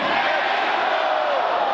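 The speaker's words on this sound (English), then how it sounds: "he would say something, and then he would have the crowd respond" A dense rally crowd roars out its shouted response in a call and response, a loud continuous mass of voices with no break.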